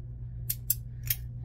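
Small scissors snip a false eyelash strip three times in quick succession, sharp crisp close-up cuts over a low steady hum.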